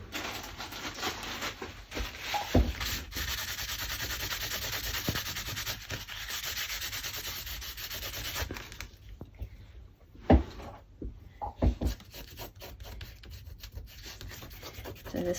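Dried glue is rubbed off a paper craft journal page by hand, making a steady close scratchy rubbing that runs for several seconds, then short intermittent rubs and taps, with no talking.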